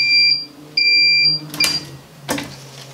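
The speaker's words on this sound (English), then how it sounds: "And then when it's ready, it will bleep at me again." A heat press used to apply heat transfer vinyl beeps twice with a clear electronic tone when its countdown timer finishes, followed by a couple of soft clunks.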